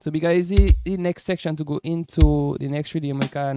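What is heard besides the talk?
No everyday noises stand out.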